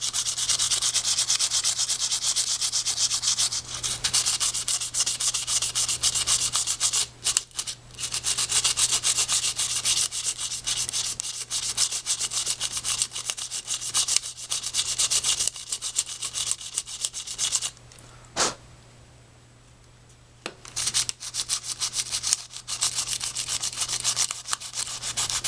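Close, continuous hand sanding over the painted surface of a construction machine model, a steady dry rubbing that runs for a long stretch with one brief pause near the end.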